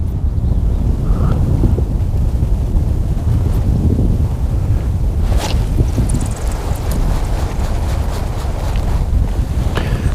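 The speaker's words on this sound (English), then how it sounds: "The wind's getting a little tough." Strong wind buffets the microphone during a fishing outing, a loud continuous roar with deep rumbling gusts and faint splashes of water throughout.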